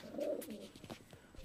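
A Rampuri pigeon cooing close by, a short soft throaty coo that rolls out and then fades into a few quieter notes.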